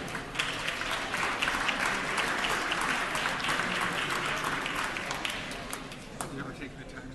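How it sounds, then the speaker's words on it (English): Steady applause in a state assembly chamber for visiting school guests at the Capitol: many hands clapping together, sustained at an even level for about seven seconds before beginning to thin out, with some voices underneath. "Please give them a round of applause."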